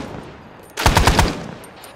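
A short burst of machine gun fire in Arma 3, about six rapid, evenly spaced shots fired close and loud after a quiet moment, then a fading echo.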